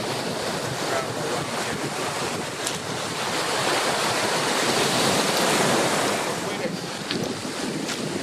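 Strong wind roars across the open shoreline of a north-side beach, buffeting the microphone in a steady, loud gust-laden rush with surf washing underneath, continuous throughout with no talking.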